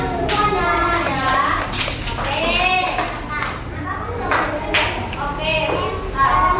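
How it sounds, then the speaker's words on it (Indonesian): Children in a second-grade classroom clap together in a lively burst, with overlapping kids' voices and chatter throughout. "Tepuk tangan untuk semuanya ya."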